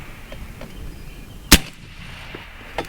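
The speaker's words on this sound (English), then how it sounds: "what you're hearing is the true report from this rifle" A single sharp, loud crack from an AEA Terminator .30 caliber semi-automatic PCP air rifle at an outdoor range, with a fainter impact-like pop following a second later over low background noise.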